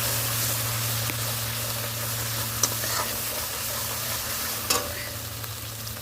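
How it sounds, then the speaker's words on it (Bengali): Spice paste fries and is stirred in a pan while a fish and egg curry is cooked, a steady close sizzle broken by a few sharp scrapes of the spoon, with no talk. "এই দেখো মশলাটা একটু কষিয়ে নিচ্ছি।"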